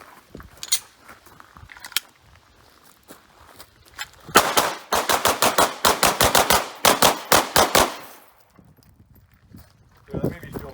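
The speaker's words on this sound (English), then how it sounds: "Let me dump one more mag right in the head." A Glock 45 pistol fires a full magazine at an outdoor range, a fast string of sharp, loud shots in a steady rhythm after a few scattered earlier pops, with faint voices and movement around it.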